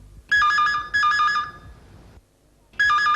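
A telephone ringtone in a home sounds in loud, electronic bursts, two close together and a third after a short gap, each a bright warbling trill, with low rustling background and no speech.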